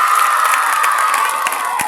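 A crowd at an outdoor event cheering and clapping, with a dense wash of shouting voices and scattered applause, loud and continuous throughout.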